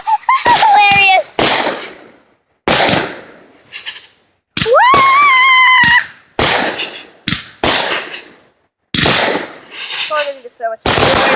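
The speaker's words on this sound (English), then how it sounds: "So much fireworks." Fourth of July fireworks exploding close by in a rapid series of loud sharp bangs and crackling bursts with short gaps, while people shout and squeal excitedly between blasts.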